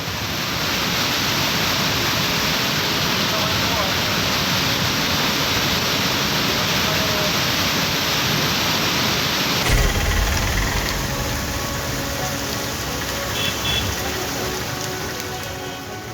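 Heavy floodwater rushes steadily through Kedareshwar temple in Ratlam after torrential rain, a dense, continuous roar with a brief louder surge partway through and no voices.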